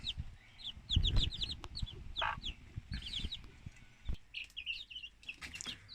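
Incubator-hatched chickens clucking and chirping in a coop, a busy overlapping chatter of short calls, fairly faint with some close handling bumps.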